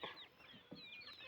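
Chickens on a mixed farm with cows and goats cluck in short, quick calls close by, several overlapping clucks and squawks over faint background.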